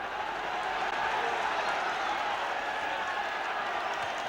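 A crowd of 25,000 at White Hart Lane for Spurs against Middlesbrough keeps up a dense, continuous wash of applause and murmuring stadium noise, steady and fairly loud throughout.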